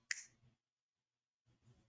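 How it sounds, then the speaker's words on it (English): Two quick finger snaps sound close and crisp, the first sharp and bright with a brief tail and the second softer, about one and a half seconds later, with silence between. "you got to snap your fingers for him to hear you"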